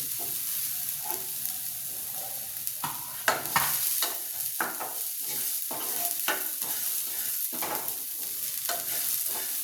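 Tamarind leaves already salted are stirred and mixed for gongura pachadi, producing steady scraping and rustling strokes in an irregular rhythm, close and moderately loud with a constant hissing background and no talking.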